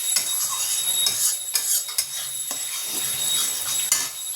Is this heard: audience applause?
no